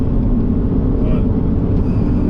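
A Renault Avantime is driven along, its low engine and road rumble filling the cabin as a steady, close drone while a voice is faintly present.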